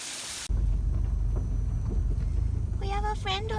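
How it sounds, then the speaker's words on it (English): A waterfall in the Otways pours with a steady, full rushing roar from close by. A brief tonal call rises over the rushing near the end. "Nice to sit by yourself at waterfalls and just listen to the sound."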